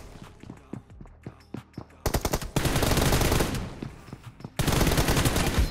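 Video game gunfire: scattered single shots at first, then loud, sustained automatic bursts that stop briefly and resume, close and dominant, with no talking over them.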